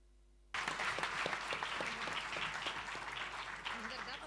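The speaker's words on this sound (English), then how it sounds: "This is your applause." Audience applause breaks out suddenly at a conference plenary on strategic partnerships and multilateralism, a dense clatter of many hands that stays steady, then tapers slightly toward the end.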